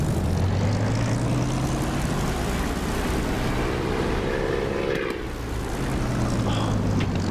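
A propeller aircraft engine in the DCS flight simulator drones steadily at full power, its tone gliding slowly upward then dipping briefly before settling again, loud and constant with no talk.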